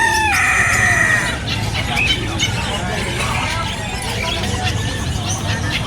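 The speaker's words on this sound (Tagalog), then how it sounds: "Tapos may mga manok pa rin dito. Yung bantam yun eh." Bantam chickens cluck and a bantam rooster crows loudly at the start, with more clucking and farmyard bird noise continuing close by.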